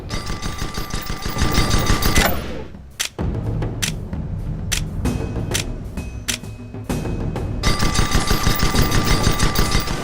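An airship gun in Guns of Icarus fires at a target dummy's hull in loud, rapid automatic bursts. A short lull with scattered single shots falls in the middle before the sustained fire resumes.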